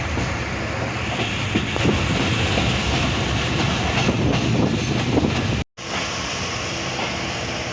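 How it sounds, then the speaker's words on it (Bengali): A passenger train pulls out of Birampur railway station in rain, heard from on board as a loud, steady rumble with rhythmic clacking of wheels on rails and a brief dropout near the end. "আমাদের ট্রেন ছেড়ে যাচ্ছে বিরামপুর রেলওয়ে স্টেশন"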